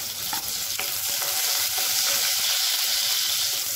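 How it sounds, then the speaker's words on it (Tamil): Steady, close sizzling of onions and three green chillies frying in hot oil, a continuous crackle with occasional stirring clicks, no voices. "நல்லா வதக்கி விட்டுக்கலாம்"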